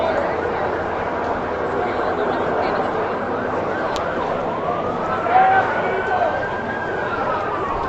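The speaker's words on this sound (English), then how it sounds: "There are 4 ambulances approaching the location." A wailing ambulance siren rises faintly in the distance over a busy crowd murmur and steady outdoor noise at a street protest in Charlottesville.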